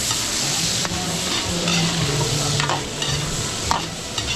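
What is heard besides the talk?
stirring and frying adobo with potatoes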